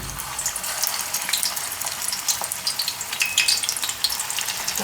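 Oats and spinach tikki patties sizzle and crackle steadily in hot oil, a dense close frying hiss with scattered pops throughout and no voices.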